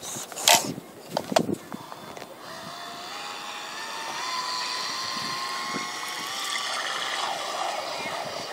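An Aquacraft Pro Fisherman RC boat runs on Boulevard Lake with a steady, whiny electric motor hum that rises and drifts in pitch, preceded by a few sharp handling clatters near the start.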